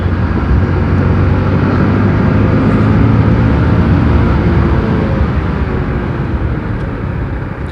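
A 100cc motorcycle climbing a slope at speed, its engine a loud, steady drone with heavy wind rush close to the mic, holding constant before easing slightly near the end.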